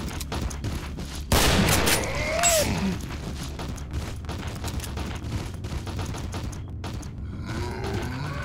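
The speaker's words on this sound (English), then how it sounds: "I'm reloading, cover me. Hold on, new mag in." Gunfire and weapon mechanisms from the video game Killing Floor: a dense burst of shots and clacking reload sounds, loud and close, with metallic creaks running under steady game noise.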